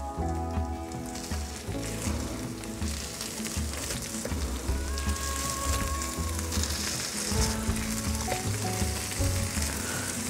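Smashed moose burger patties frying on a hot griddle, a loud, steady sizzle and crackle running continuously with faint scraping and clatter mixed in.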